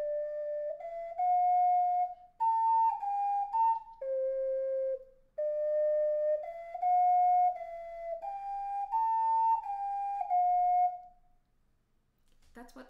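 An ocarina plays the opening two sections of the Gravity Falls theme: a clear, breathy melody of pure sustained notes in short phrases with small pauses between them, close and solo, ending with a faint rustle.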